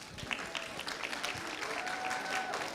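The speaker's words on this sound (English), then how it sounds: "So give yourself a big round of applause for these young authors" An audience applauds young authors at a book award and certificate ceremony, a dense, steady wash of many hands clapping together at moderate volume for the whole stretch, with no voices breaking through.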